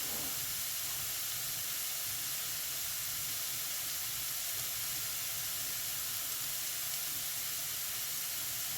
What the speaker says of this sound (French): Il faut que je fasse revenir les oignons.